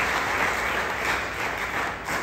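Brief, dense applause fills a meeting hall, with a crowd clapping steadily at even strength for a couple of seconds.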